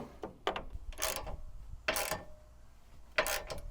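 A hand ratchet tightens a 13 millimeter bolt during AC condenser replacement on a Chevrolet Silverado, a few quiet bursts of rapid clicking spaced apart, close and faint, with no talk.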